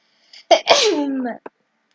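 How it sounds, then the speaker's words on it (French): One loud, close sneeze preceded by quick breathy catches, followed by a short trailing exhale in an otherwise quiet room. "Je vais éternuer."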